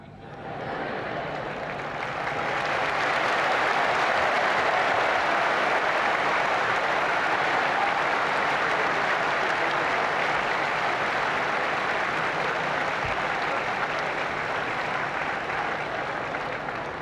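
Sustained applause from a large audience at the 1997 Golkar 33rd anniversary reception at JCC, attended by President Soeharto: a dense, even roar of clapping that swells over the first few seconds and then holds steady for a long stretch.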